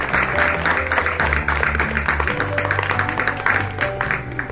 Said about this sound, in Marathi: त्याचं आपण सर्वांनी टाळ्या वाजवून याचा कौतुक करू.